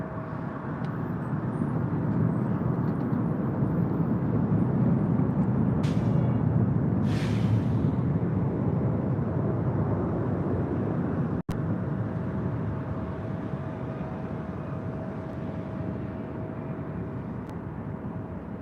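A Delta Boeing 767-300ER takes off from LAX runway 24 left. Its jet roar is broad and sustained at a moderate distance, builds through the middle and then slowly fades, with a brief click partway through.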